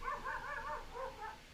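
Dogs bark outdoors, a quick run of several moderately faint barks followed by a couple more after a short pause.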